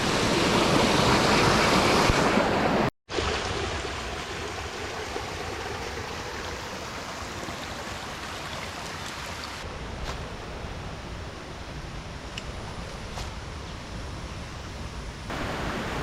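A river rushes steadily past a jungle trail crossing on Gunung Rajah in Malaysia, a loud, continuous broadband wash of flowing water with a brief dropout near the start and no voices.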